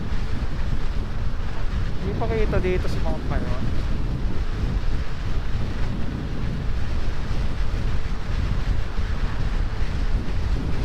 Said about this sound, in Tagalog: Lakas naman ng hangin. Grabe naman ang hangin dito.